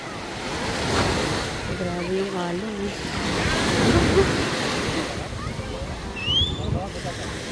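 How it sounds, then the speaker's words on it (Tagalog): Ocean surf rolls and crashes continuously at a crowded beach in Noja, Cantabria, Spain, with wind buffeting the microphone and people talking nearby. "Grabe yung alon."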